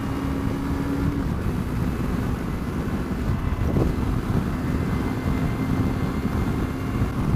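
Suzuki V-Strom 250cc motorcycle riding at speed toward 70 mph, a steady low engine hum with a faint held tone, largely buried under constant rushing wind noise.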